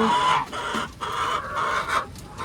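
Chickens clucking close by in a poultry pen, several birds making continuous overlapping clucks without a break, no one talking.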